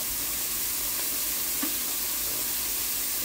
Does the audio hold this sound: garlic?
yes